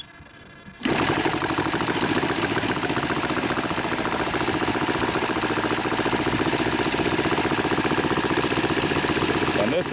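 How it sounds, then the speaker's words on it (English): A quarter-scale model Hurricane airplane's inline four-stroke engine catches after a brief quiet moment and runs loud, smooth and steady up close, with a fast even firing pulse holding to the end. "this is a inline 4-stroke engine, so a very unique sound, very smooth running"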